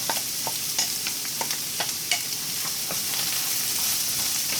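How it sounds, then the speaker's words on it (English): Cubed carrots and onion fry in a pan, giving a soft continuous sizzle punctuated by a rhythm of light stirring clicks and scrapes from a utensil. "you fry up your carrots with your onion"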